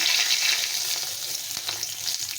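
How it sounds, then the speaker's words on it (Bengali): Dried red chillies and a bay leaf sizzle and crackle steadily in hot oil, a close, continuous frying hiss with no voices. "দুটো শুকনো লঙ্কা ফাটিয়ে দিয়েছি, একটা তেজপাতা দিয়েছি"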